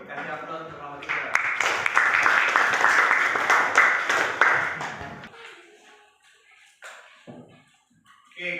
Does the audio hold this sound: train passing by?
no